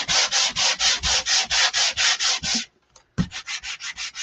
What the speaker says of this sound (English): give this a quick sand